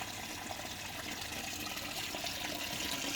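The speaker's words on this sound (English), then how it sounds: "There, water just runs out them pipes down there." Water draining out of pipes into a flood and drain system, a steady, quiet broadband trickle and gush running continuously without a break.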